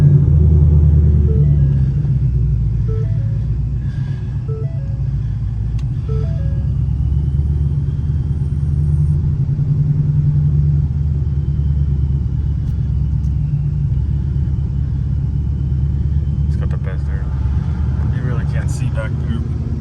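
A deep engine rumble from a 2020 Ford Mustang GT with a ProCharger-supercharged V8 idles steadily and loud throughout, with low throbbing tones and occasional higher crackles near the end.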